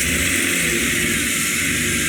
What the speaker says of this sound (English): It is alive. The car actually runs. And how smooth is this?